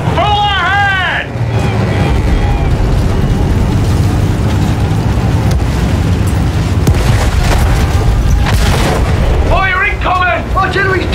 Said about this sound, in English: Artillery's tearing the boys apart!